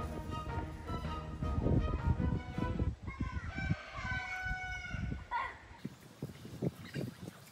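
Chickens on a yard, with a rooster crowing in a rising then falling call and hens clucking in short bursts, close and fairly loud, with scuffling noises around them.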